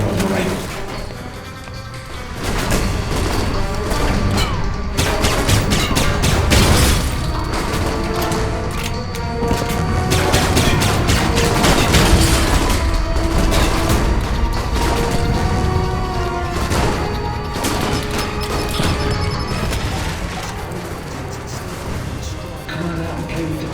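Automated turrets in the video game Alpha Protocol fire in rapid, dense bursts mixed with crashes and thuds, loud and sustained, while a voice talks over the gunfire.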